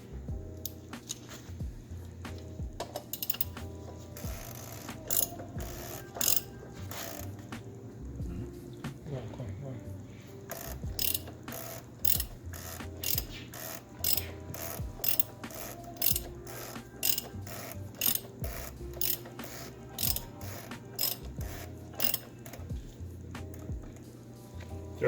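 A socket ratchet clicks in rapid, steady bursts while tightening the oil filter housing cap on a BMW E46 during an oil change, close and loud, with faint background noise and a brief spoken remark.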